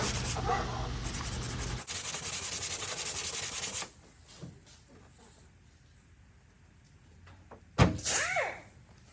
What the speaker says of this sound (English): start sanding the side quarter pounder